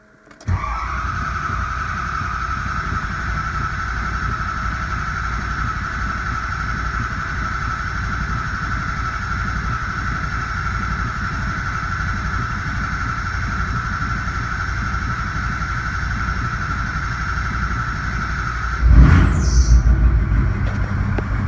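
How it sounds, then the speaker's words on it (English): A 2003 Ford 6.0 diesel engine, just fitted with replacement injectors, runs with a loud, steady clattering drone and a constant whine, then near the end a sudden burst lifts the sound as the engine catches and revs. "Now when you're cranking on these, you got to keep cranking to build up oil pressure."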